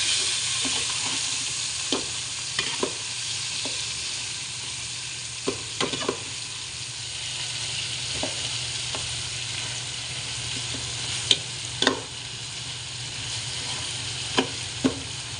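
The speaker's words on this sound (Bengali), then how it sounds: "তেলটা গরম হয়ে গেছে, ধোয়া উঠে গেছে। ভীষণ ফুটতেছে।" Onions fry in smoking-hot, vigorously bubbling oil, a steady loud sizzle with occasional sharp scrapes and clinks as they are stirred.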